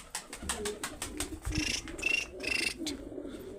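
Pigeons cooing and fluttering at feeding time, soft throaty coos with scattered pecking taps and wing sounds, fairly close but quiet, with no talk over them.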